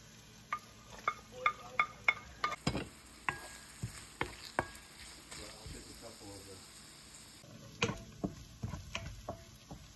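Onion and garlic sautéing in a pan, with stirring strokes and scraping clicks over a soft sizzle, close and moderately loud, the spatula taps coming in uneven bursts.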